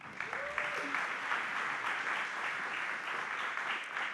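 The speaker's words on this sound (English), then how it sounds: "I'd like for you to give a round of applause to Councilmember Shayla Favors, please." Audience applause for Councilmember Shayla Favors at a council committee community conversation on flavored tobacco, sustained even clapping from a seated crowd, moderately loud, with a faint brief tone early and murmur underneath.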